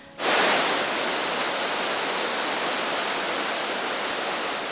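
Mountain stream water flowing along the Haeinsa Sorigil path, a continuous loud, broad rushing wash that starts abruptly and holds steady, with no voices.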